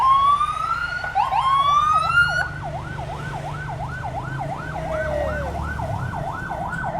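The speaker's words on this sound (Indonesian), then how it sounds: "Ada ambulans." An ambulance siren passes on a rainy street, a rising wail shifting into a rapid warbling yelp, loud and close over steady traffic rumble.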